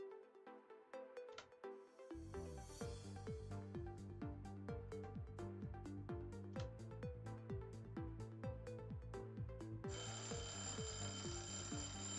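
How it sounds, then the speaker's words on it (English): A hydrate timer alarm going off, a rapid repeating electronic beep pattern in steady rhythm, loud and close, continuing for several seconds with a brighter tone joining near the end. "And that is another hydrate timer"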